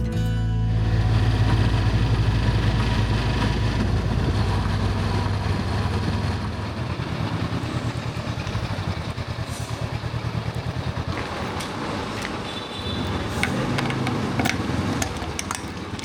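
A 500cc Honda motorcycle engine runs steadily and loudly close by, a low throbbing idle with clatter and some wind, before a fuel-station departure on a mountain road loop; it holds fairly constant throughout.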